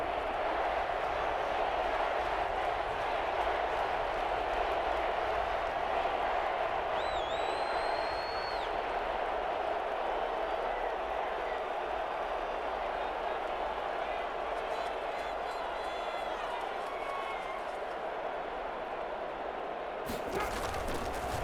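Stadium crowd noise in the Madden NFL 21 football video game builds ahead of a big third down, a steady dense roar with cheering and a whistle-like shout, play-by-play commentary running over it.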